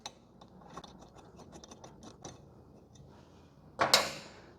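Button head bolt being threaded in with a 4mm hex key while installing touring pegs on a Suzuki GSX-S1000GT: a series of faint, irregular metallic ticks and clicks, ending in a louder rattling scrape.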